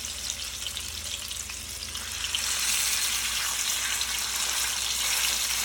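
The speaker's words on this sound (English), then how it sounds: "You're gonna sizzle these pork chops." Pork chops sizzle in a frying pan, a loud, steady hiss of frying fat that swells after a couple of seconds and stays close and continuous, with no talking.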